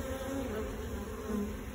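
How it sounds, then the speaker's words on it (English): Many bees buzz steadily and close inside a rotted wooden hive of orphaned bees, a dense continuous drone with no voices. "several bees up in here"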